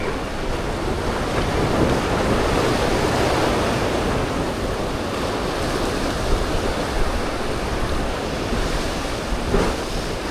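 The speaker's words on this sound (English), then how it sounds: "I've got to work these waves." Waves roll and break against a rocky coastline at Narooma, Australia, a constant loud roar of surf with gusty wind noise and no voices.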